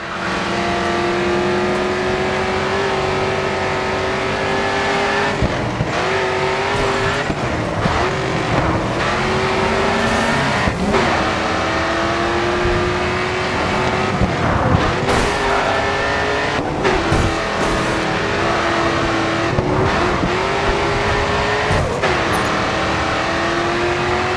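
Race car engine from GRID 2 roaring steadily at high revs throughout, with repeated gear shifts and brief dips as the car accelerates, plus occasional tire squeal, loud and close.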